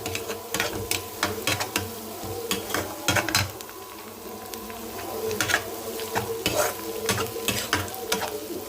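Chopped onions and green chillies with ginger-garlic paste frying in oil for a curry, a steady sizzle broken by repeated sharp scrapes and clacks of a spoon stirring against the pan.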